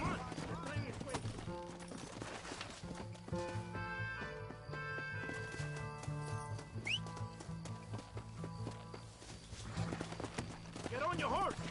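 Horse hooves gallop in a western-style video game with a train chase, a fast clip-clop running continuously under loud music, shouting voices and busy action noise.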